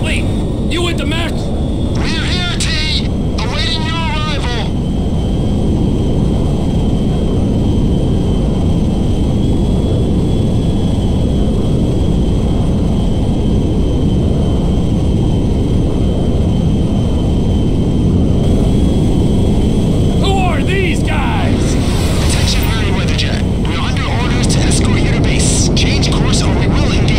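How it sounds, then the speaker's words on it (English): A cargo jet engine in GTA 5 roars continuously at high volume, a dense, steady rumble that lasts throughout while radio-style voices talk over it near the start and again near the end. "Ronnie, the cargo jet is now part of the TP Enterprise fleet."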